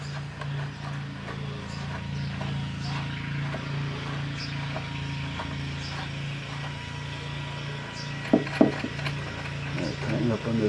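A bolt being threaded into a radio rack gives faint, regular ratcheting ticks against a steady low hum. Near the end come a few louder knocks and clacks.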